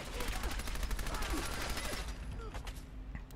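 Submachine gun fire in the game Fallout 4, rapid bursts of automatic shots crackling in quick succession for about two seconds, then a few sparse clicks and mechanical sounds as the firing stops.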